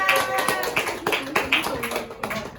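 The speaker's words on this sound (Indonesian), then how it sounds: "beri tepuk tangan untuk Mbak Vera" A small group claps for Mbak Vera during a classroom science presentation, giving uneven, sparse hand claps that are close and fairly loud, mixed with voices.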